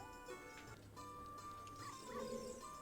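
Puppy in Zelda: Ocarina of Time gives short, high game-style yips and whimpers over soft in-game background music, quiet and brief, with no talking.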